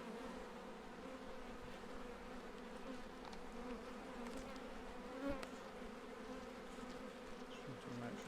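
A distressed honeybee colony rescued from a chimney hums as a continuous, dense buzz close by, with individual bees zipping past and faint handling knocks.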